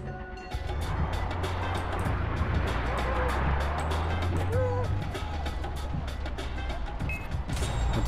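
A car's engine drones steadily in the video game Far Cry 4, a loud, continuous low hum with engine rumble that holds throughout.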